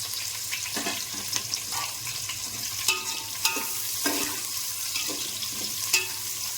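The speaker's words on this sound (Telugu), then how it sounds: "కొద్దిగా వేయించుకోవాలి పచ్చిమిర్చి" Green chilies fry in oil in a pan for bagara rice, a steady hiss of sizzling with periodic scraping clatters from a spatula stirring, close and loud without voices.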